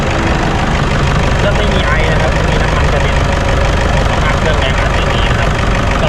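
Toyota Vigo Smart Cab engine idling after starting, a loud, close, rough continuous rumble with a ticking knock throughout, while someone talks over it.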